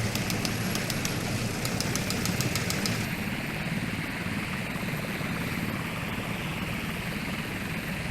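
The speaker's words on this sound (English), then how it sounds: "a helicopter with two very special passengers lands on the aircraft carrier" A helicopter engine and rotor in the video game Sea Power drone steadily and loudly throughout, with a thin high whine on top and no voices.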